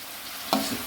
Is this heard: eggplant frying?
yes